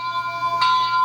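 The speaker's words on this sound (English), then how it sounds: "function 1 is the bell" A model train DCC sound decoder sounding its locomotive bell, a sustained ringing tone with steady overtones and a brighter strike partway through, close and clear with no talk.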